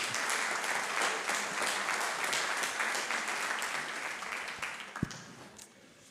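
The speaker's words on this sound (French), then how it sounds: "que vous pouvez applaudir puisque vous êtes de bonne humeur" Guests at a business awards evening in Ardenne Métropole applaud an official, a warm sustained round of clapping that gradually thins and fades toward the end, with one sharp thump late on.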